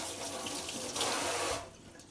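Tap water runs steadily over grocery produce during a rinse, a close continuous splashing stream that cuts off sharply near the end, with no talk.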